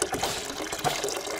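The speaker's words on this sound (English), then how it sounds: "And now we take the orange juice and pour it inside as well." Orange juice is poured into a bottle holding orange slices, a close, gurgling liquid stream with uneven splashy bursts over a short stretch, no talking.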